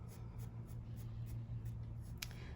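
Graphite pencil cross hatching on paper, a steady soft scratchy scraping of repeated strokes with faint rhythmic pulses, close and quiet over a low background hum.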